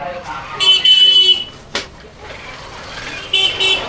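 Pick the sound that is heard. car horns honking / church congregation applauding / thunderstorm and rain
car horns honking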